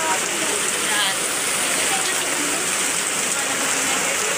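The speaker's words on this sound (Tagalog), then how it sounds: "Umulan na." Steady rain falls outdoors during an All Saints Day outing, making a dense, even hiss that stays loud and unbroken throughout.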